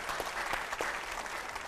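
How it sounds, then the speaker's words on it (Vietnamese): An audience applauds at a talk-show event honouring a couple, a dense, even patter of many hands, moderately distant and steady throughout the short stretch. "Xin mời quý vị dành một tràng pháo tay để mà khích lệ tinh thần cho hai bác."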